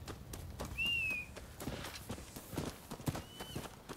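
Horse hooves clip-clopping in Rise of the Ronin, a steady trotting rhythm with a whinny and faint bird calls over it, heard at moderate distance.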